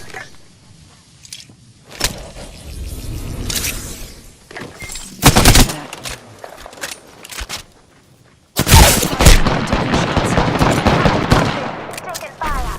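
Gunfire from the video game Apex Legends, with bursts of automatic fire and single shots starting and stopping, loud and close, including a dense sustained stretch near the end, alongside scattered game effects and some voice.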